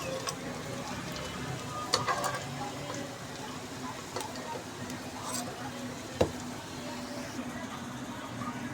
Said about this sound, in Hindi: हल्का हल्का सा प्रेस करते जाएं ताकि ये अंदर से भी अच्छे तरीके से फ्राई हो जाए